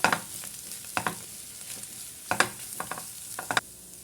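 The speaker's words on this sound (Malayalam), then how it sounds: "നല്ലോണം ഒന്ന് മിക്സ് ചെയ്ത് കൊടുക്കാം." Chicken and mashed potato filling stirred in a hot pan, a spoon scraping and clacking in irregular strokes over a soft sizzle, close up and alone.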